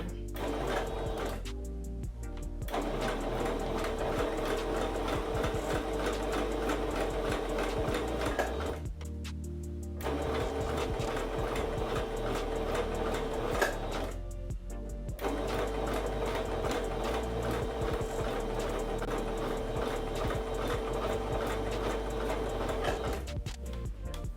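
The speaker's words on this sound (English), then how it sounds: "I'm gonna start sewing now" A sewing machine stitches a bodycon dress in long, steady runs of rapid mechanical whirring, stopping briefly three times between bursts, close and even in loudness with no talking.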